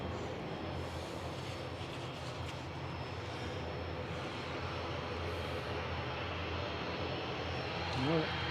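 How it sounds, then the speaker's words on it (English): A private jet's engine roars steadily at Manchester Airport, a loud continuous rumble and whine that stays constant throughout with no talking. "A Private jet."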